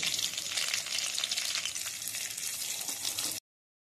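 Dried red chillies and panch phoron sizzling in hot oil for Bengali aloo posto, a dense, steady, bright crackling fry heard up close without pause before ending abruptly.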